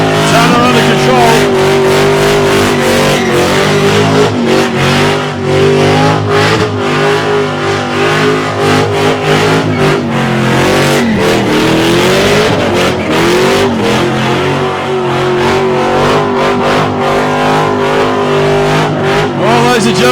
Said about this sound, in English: Just working the throttle nicely, keeping that tonner under control.